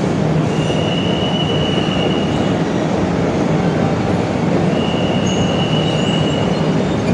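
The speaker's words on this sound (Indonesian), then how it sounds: "Ini dia kereta api Bandara Soekarno-Hatta." A Soekarno-Hatta airport rail link train at a platform hums steadily at close range, with a long high metallic squeal rising twice above the rumble. No voices.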